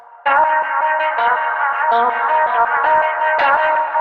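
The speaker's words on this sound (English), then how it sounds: "There's a filter envelope." A bright synth line of repeated notes, each one opening up brightly as a filter envelope sweeps, drenched in echo and effects.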